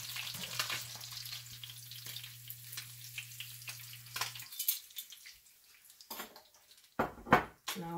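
A fish fillet sizzles and spits in a hot frying pan, a soft continuous crackle, faint and close, joined near the end by a few louder clatters and bumps.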